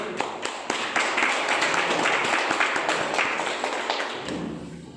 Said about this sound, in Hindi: मैं चाहूंगा उस ग्रेट पर्सन के लिए एक बार जोरदार ताली होना चाहिए